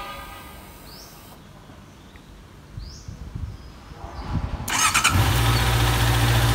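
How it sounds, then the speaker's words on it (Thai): Honda CBR650R motorcycle engine cranks and fires after a quiet stretch with faint birdsong, then settles into a loud, steady idle close by. "ขั้นตอนต่อไปนะครับก็ทำการติดเครื่องยนต์นะครับ"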